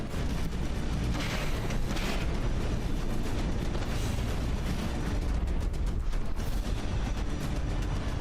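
Weapons firing repeatedly during a battle in From the Depths, a dense continuous barrage of gunfire and booming blasts that stays loud throughout.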